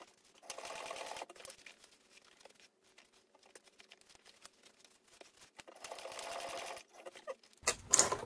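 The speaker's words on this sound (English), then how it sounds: "I backstitch at this seam here because it's pretty thick." A sewing machine backstitches a thick seam on a laptop bag, in two short bursts of rapid, fairly quiet needle chatter separated by a long pause of light handling rustles, ending with sharper clicks.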